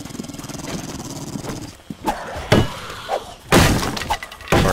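A dog in the zombie survival game 7 Days to Die, somewhere outside, comes through as a few scattered thuds and harsh bursts over a busy game soundscape with crashing, breaking noises.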